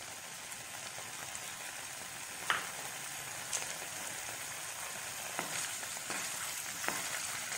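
Paneer cubes shallow-frying in a few spoonfuls of hot oil, a steady low hiss of sizzling with a few sharp pops and faint utensil taps, moderately quiet and close, no voices.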